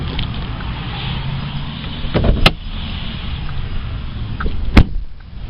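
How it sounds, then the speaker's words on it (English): Doors of a 2014 RAM 2500 Heavy Duty Crew Cab 6.7L Cummins turbo diesel pickup shut twice, two heavy, solid thunks a couple of seconds apart, close and loud over low outdoor background noise. "Solid sound of the door thunk."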